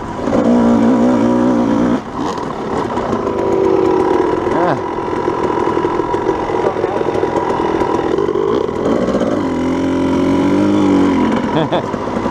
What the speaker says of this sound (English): Nothing like being out on Christmas riding a dirt bike.